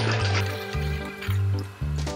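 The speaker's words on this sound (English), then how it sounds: "First, fill one of your bottles with water." Water pours into a soda bottle in bursts, with a gurgling, rising fill sound that pulses about four times, close and fairly loud.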